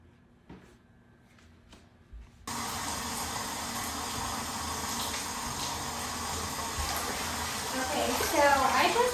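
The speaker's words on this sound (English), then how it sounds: "I'm just putting some warm water in the tub." Warm water pours steadily into a bathtub with a yoga mat and detergent, a faint tap and soft noises first, then a loud continuous rush from about 2.5 seconds that builds slightly toward the end.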